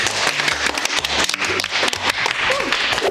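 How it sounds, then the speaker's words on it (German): A small group applauding together, dense close clapping with a few sharp taps, lively and continuous for a few seconds. "Aber Applaus an uns alle."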